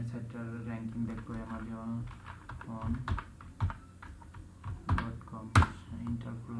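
A website address is typed on a computer keyboard, with soft, irregular key clicks and a few sharper taps scattered under a man's steady speech.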